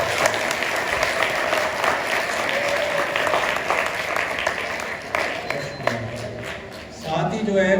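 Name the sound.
audience applause in a hall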